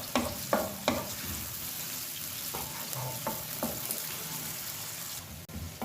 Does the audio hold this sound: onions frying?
yes